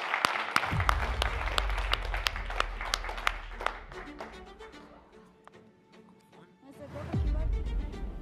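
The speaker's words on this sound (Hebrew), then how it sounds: "ואני רוצה מחיאות כפיים מטורפות" Loud audience applause with sharp scattered claps that thins out, then a fresh burst of clapping swells near the end at a live inspirational talk event.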